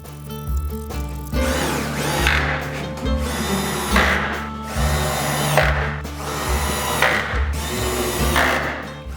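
A power drill drives screws with washers into plywood planking on a cold-moulded boat hull, giving several loud whirring bursts of about a second each, separated by short pauses, close up and alone.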